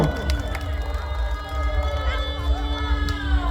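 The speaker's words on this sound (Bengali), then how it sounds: "জোরে একটা হাততালি হবে রাজুদার জন্য" A crowd claps and cheers for Raju at a stage event, a dense continuous roar of applause with shouts and a steady tone running underneath.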